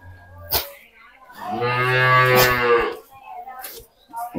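A cow on a small dairy farm gives one long, loud, close moo lasting over a second, framed by brief knocks and rustles around it.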